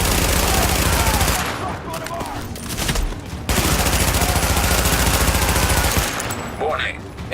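Dense automatic gunfire rattles in the shooter Tom Clancy's The Division, loud and sustained in long bursts with brief pauses, mixed with impacts and game effects.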